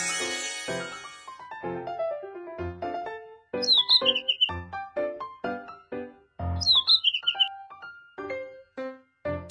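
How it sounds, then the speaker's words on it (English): Twice a cartoon bird gives quick high chirps in the Little Panda School Bus children's game, set over plinking, upbeat background music. "Bird."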